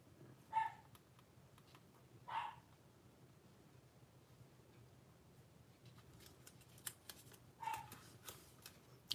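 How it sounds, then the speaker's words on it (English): Dogs barking at a distance, with three or four faint, separate barks spread over several seconds against a quiet room background. "I don't know what my dogs are barking at."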